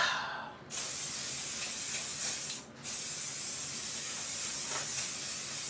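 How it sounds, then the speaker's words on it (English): Aerosol can of makeup setting spray misted onto a face in two long, steady hissing bursts with a short pause between them, close and fairly loud, with no talking. "It's definitely hairspray for your face."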